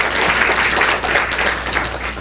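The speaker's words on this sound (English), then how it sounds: "I think we want to give everybody a round of applause for helping put this day and this event together" Steady applause from a conference audience at the 2015 CoP Annual Meeting, a continuous wash of many hands clapping at moderate volume for about two seconds without talk over it.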